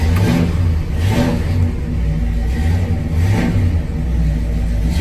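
A 1966 Ford Ranch Wagon engine runs cold with the choke on, giving a steady, loud, close rumble that swells and eases slightly in slow waves.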